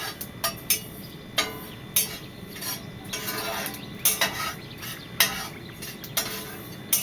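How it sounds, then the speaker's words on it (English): A utensil scrapes and taps repeatedly against a pan on an electric stove in a steady stirring rhythm, browning sesame honey balls, close and fairly quiet, with a soft background hiss. "Keep it stirring around."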